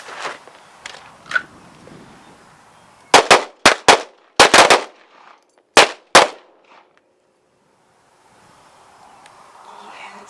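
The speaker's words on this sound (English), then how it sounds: "we're going to shoot 2 rounds" Defensive pistol drill: several sharp, loud handgun shots ring out in quick pairs and short bursts close by, separated by brief quiet gaps, with faint shuffling and movement before and after.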